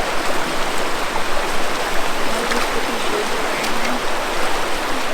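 Rapid Creek at Founders Park in Rapid City flows past as a steady, close, broadband rush of water, continuous and even without pauses.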